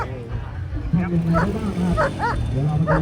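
Police dogs bark repeatedly in short yelping bursts at a demonstration on Thailand's National Children's Day, heard fairly close over a busy crowd murmur.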